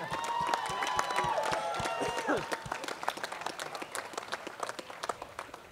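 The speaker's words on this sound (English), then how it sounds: "Yeah, always clap for Ruby Hill Park." A crowd in an outdoor park pavilion at a grand opening in Ruby Hill Park, Denver, claps and cheers, loud and dense at first and then thinning into scattered claps, with some voices mixed in.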